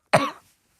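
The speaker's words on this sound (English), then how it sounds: "I'm about to cough" A single sharp cough, close and fairly loud, that bursts out suddenly and fades within half a second, followed by silence.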